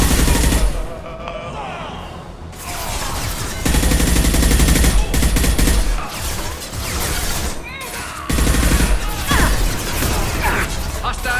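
Dense gunfire in a Mass Effect 2 firefight, loud and sustained in rapid bursts with crashes, while voices shout over the shooting.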